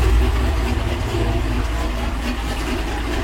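A Dodge Charger or Chrysler 300C engine idles nearby with a steady, deep rumble that holds even throughout, with no voices over it.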